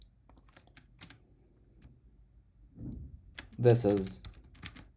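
Quick, light clicks of typing on a computer keyboard on macOS come in short bursts, close and soft, with someone speaking briefly in the middle.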